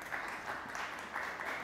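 Applause from the audience at a panel discussion on climate journalism, a steady wash of many hands clapping that stays fairly even for the short stretch.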